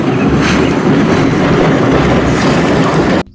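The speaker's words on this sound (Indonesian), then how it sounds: "Wadidaw, kereta Thomas." A toy Thomas train clatters steadily and loudly close to the microphone, a continuous rattling rumble with no talk, cutting off abruptly at the end.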